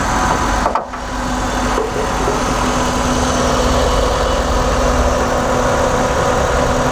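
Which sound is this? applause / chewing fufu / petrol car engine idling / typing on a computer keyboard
petrol car engine idling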